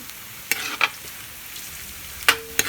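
Garlic sautéing in a pan for palabok, a soft steady sizzle broken by a few sharp clinks and scrapes of a utensil stirring against the pan.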